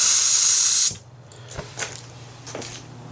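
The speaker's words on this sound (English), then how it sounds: "Bit of water out of that line." Water from an outdoor water line being winterized sprays out in a loud hissing burst for under a second, then stops, leaving faint drips and light knocks.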